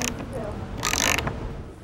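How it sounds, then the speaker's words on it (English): A socket wrench snugging a nut and washer onto a carriage bolt on a wooden picnic table, giving a quick burst of ratcheting clicks close by after softer handling noise, with a voice speaking over it. "After adding a washer and nut, we'll snug it tight with a socket wrench."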